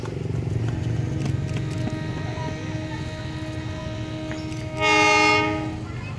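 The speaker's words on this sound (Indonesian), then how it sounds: "inilah detik-detik kereta api menuju Garut, uji coba kereta api pertama" A train on the Cibatu–Garut railway line test run rumbles past steadily, then sounds a loud, sustained horn blast near the end.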